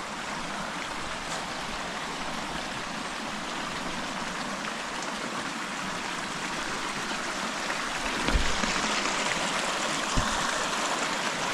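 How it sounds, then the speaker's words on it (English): A small river stream flows along a nature trail in Nairobi, a steady broadband rush and gurgle of running water, close and continuous with no voices. "small river stream."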